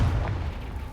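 A Confringo blasting spell fired in Hogwarts Legacy lands as a single deep, booming blast, its low rumble fading over about a second.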